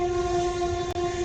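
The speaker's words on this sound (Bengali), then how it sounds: "একটা ট্রেন যাচ্ছে একদম এই বালিয়াড়ি পাশ দিয়ে" A train passing beside sand dunes sounds a steady, sustained horn over a low rumble of rolling rail cars, heard from nearby without any talk.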